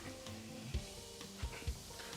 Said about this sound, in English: we're gonna cook the extra lean ground beef as the chicken is cooking